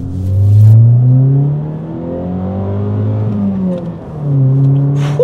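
A 2019 Mazda 3 petrol engine revving hard above 6000 rpm, a loud sustained rising-and-falling engine drone with strong harmonics that swells, dips slightly, then climbs again, heard alone without talk.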